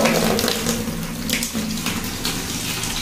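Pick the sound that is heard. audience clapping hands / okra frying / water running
water running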